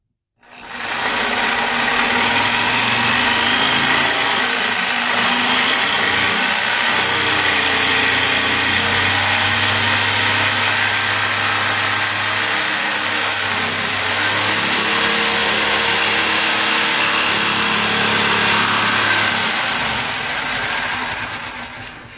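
A jigsaw cuts a heart-shaped wood sign out of plywood, giving a steady, close, loud buzzing motor whine with a faint rattle that runs almost unbroken for about twenty seconds.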